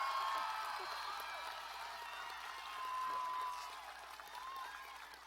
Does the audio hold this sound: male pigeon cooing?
no